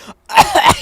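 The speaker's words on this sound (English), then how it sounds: "coughing, struggling to say" A person coughing hard, a short throat sound followed by a pause and then a loud raspy cough burst with two pulses, close to the listener.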